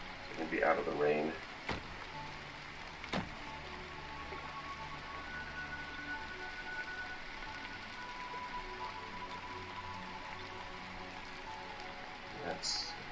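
Rain falls without a break in the video game Citadel: Forged with Fire, a soft, even hiss that lasts throughout, with a brief murmur of voice at the start and a few clicks.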